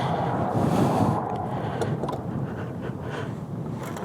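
Strong wind roars across a California highway in the Mojave Desert during a scooter rally, a loud, steady buffeting rush with gusty swells and no talk.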